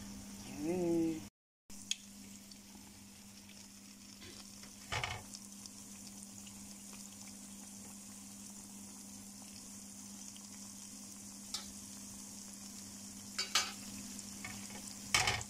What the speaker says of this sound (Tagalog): So, ayan, iprito na natin.